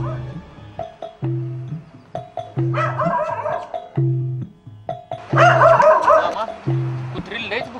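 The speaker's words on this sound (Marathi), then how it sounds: "कुत्री लयच भुकालीत का?" Dogs barking in a rural village scene, a loud, near series of repeated barks and yips with brief whimpers, while people talk between and over them.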